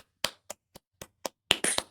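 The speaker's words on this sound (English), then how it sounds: "Everyone clap." A small group claps in a quick burst of separate hand claps, about six sharp, evenly spaced slaps building into a denser flurry at the end, close and alone with no talk.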